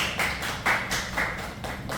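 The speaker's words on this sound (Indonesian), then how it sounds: "Boleh tepuk tangan ya teman-teman." Classmates in a microteaching session applaud a presenting group with a brief burst of scattered claps, a few sharper hits standing out, near and moderately loud.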